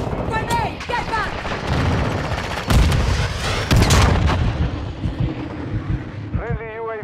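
Gunfire and explosions fill a Call of Duty: Modern Warfare II team deathmatch, with dense bursts and heavy booms under game voice callouts and radio chatter, loudest around the middle and tapering toward the end.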